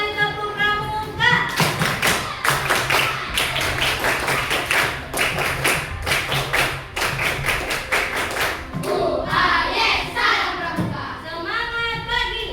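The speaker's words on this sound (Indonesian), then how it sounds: "Oke, 2 kali tepuk pramuka." A classroom of schoolchildren performs the rhythmic Pramuka scout clap twice, with sharp patterned claps and thumps in quick bursts and children's voices chanting and calling between the rounds.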